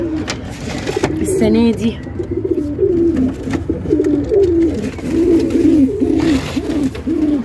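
Pigeons coo repeatedly in soft, rolling phrases throughout, close by and fairly loud, with someone speaking Arabic briefly over them.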